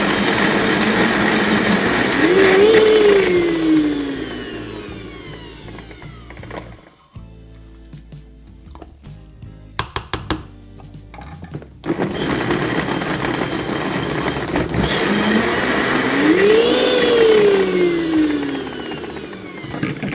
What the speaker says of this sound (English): Now you may need to stir it a few times depending on the blender, but keep going until you've got a really nice smooth texture